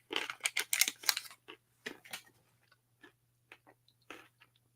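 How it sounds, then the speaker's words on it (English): Chocolate-covered almonds crunch between the teeth in a burst of sharp, close bites that thin out into scattered quieter chews amid near silence. "I'm eating chocolate covered almonds, by the way, if you hear me crunching"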